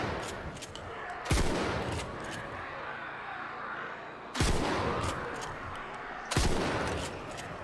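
Three loud, sharp shotgun blasts ring out in the Contagion video game, spaced a few seconds apart, each with a heavy booming tail over constant game noise.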